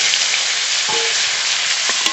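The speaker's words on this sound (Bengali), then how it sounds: "আলু খুব ভালো করে ভেজে নেব" Cut, washed potatoes seasoned with salt and turmeric fry in hot oil for a catla fish curry, giving a steady, dense sizzle with faint crackles throughout and no voices.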